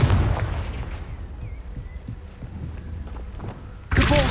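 A fire-blast spell in Hogwarts Legacy erupts with a heavy booming burst that rumbles and decays, followed by a fresh sharp impact near the end.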